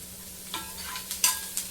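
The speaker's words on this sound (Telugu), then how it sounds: "ఆనియన్స్ని కూడా బాగా వేగనివ్వండి. కొంచెం బాగా గోల్డెన్ కలర్ వచ్చేదాకా వేగనివ్వండి." Onions fry and get stirred in a pan, a steady soft sizzle broken by a few scraping spoon strokes close by.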